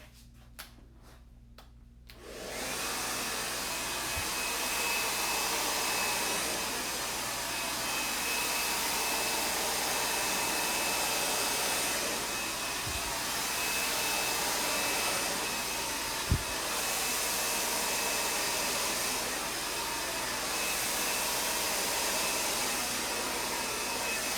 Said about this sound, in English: For me to just quick little blow dry.